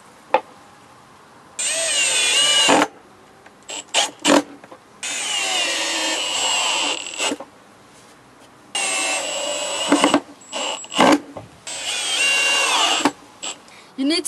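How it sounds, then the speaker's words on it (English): Power drill boring holes in wood while building a seat for a homemade one-wheeled electric scooter, with several loud whining bursts of a few seconds each separated by brief pauses, knocks and handling clatter. "You need to drill a hole so you can turn the air wheel on and off."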